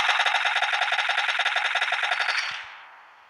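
Automatic gunfire in PUBG Mobile: a rapid, steady burst of shots in close succession for about two and a half seconds, loud and near, cutting off into a brief fading tail.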